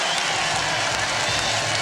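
St Helens rugby league supporters applauding their team, a dense wash of clapping and crowd noise from a stadium that continues steadily throughout.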